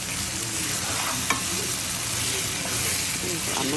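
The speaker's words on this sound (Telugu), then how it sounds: "ఆనియన్ మంచిగా మగ్గించుకోవాలి ఆయిల్లోని" Onion frying in oil with chili powder and salt, a dense continuous sizzle up close with faint stirring scrapes throughout.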